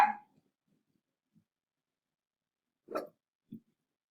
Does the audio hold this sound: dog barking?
yes